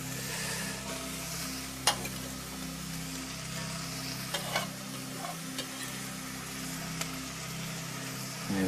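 Broccoli and courgette sizzle steadily in a pan for a vegan meal, with a constant soft frying hiss and a few light clicks and scrapes from stirring scattered through.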